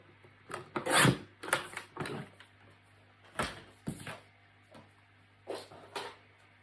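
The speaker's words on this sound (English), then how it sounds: "I'm just going to bring my trimmer in. I'm going to cut it at 1 inch." A paper trimmer slices a strip of construction paper at one inch, giving several close, dry rasping strokes in short bursts with pauses between them, and no talking.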